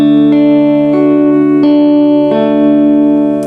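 Finger-picked guitar notes ring out over a held chord, several plucked notes following one another, close and clear with sustained tones and no voice.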